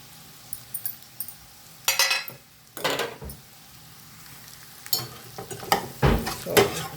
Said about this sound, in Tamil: சாஸ் ஊற்றின பிறகு கொஞ்சம் ஒரு வதக்குனா போதும் ஃப்ரெண்ட்ஸ்